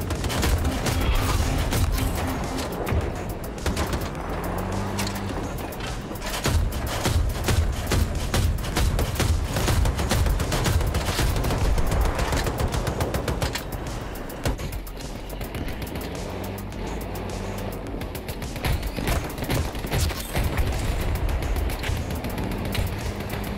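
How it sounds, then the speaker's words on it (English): Battlefield 2042 combat with sustained rattling automatic gunfire over a steady vehicle rumble, loud and continuous throughout, easing slightly midway before the shooting picks up again. "Somebody just tried to shoot at me."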